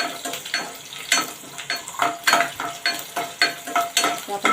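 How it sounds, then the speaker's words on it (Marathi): Chopped potato sautés in oil for a fasting-style masala dosa filling, with a steady sizzle under rhythmic scrapes and clinks of a spatula against the pan. "तेलावर परतून घेणार आहोत जो बटाटा आपण चिरला होता"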